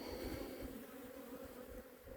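A dense, steady hum of honeybees buzzing in a strongly populated hive with capped brood and a new queen in early October, close and continuous, with no voices.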